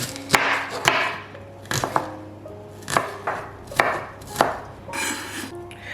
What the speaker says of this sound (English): we're going to take a chopping board. You take your knife.